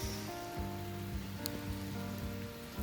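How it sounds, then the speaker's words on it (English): Steady rain patters on a surface, a soft continuous hiss with a low hum underneath. "It's raining."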